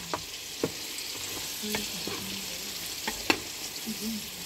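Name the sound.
chicken breast frying in a pan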